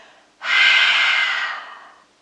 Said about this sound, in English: take a deep, deep breath through the nose. Open your mouth and let it all go